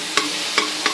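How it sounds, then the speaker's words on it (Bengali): Ridge gourd frying in a pan in a home kitchen, a steady sizzle under three sharp stirring scrapes spaced evenly about every third of a second, close and clear with no voices. "ধুন্দুল ভাজা,"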